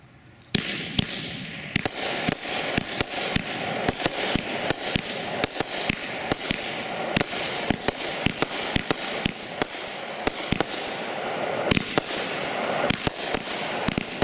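A Shogun Great Nation consumer firework goes off in a steady run of sharp, loud cracks and pops over a continuous crackling hiss, lasting about fourteen seconds.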